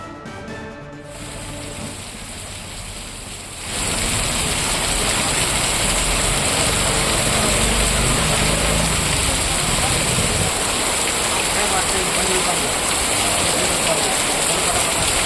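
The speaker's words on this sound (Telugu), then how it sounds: "ఈదురుగాలులతో కూడిన భారీ వర్షం పడింది" Heavy rain with gusty winds opens quietly, then swells into a loud, continuous roar of downpour that stays steady and dense to the end.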